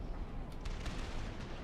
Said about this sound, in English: But now we have new cannon fire